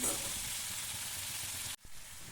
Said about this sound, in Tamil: எண்ணெயில் நம் சுத்தம் செய்து வைத்துள்ள பிரண்டையை எடுத்து போட்டு நன்றாக வதக்கி கொள்ளவும்